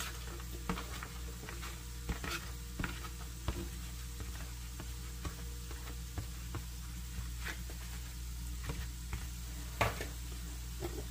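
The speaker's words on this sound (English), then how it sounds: "Keep turning our tortillas as they fry." Tortillas and chopped white onion fry over medium heat in a skillet with a steady low sizzle, punctuated by occasional soft ticks and taps as they are turned.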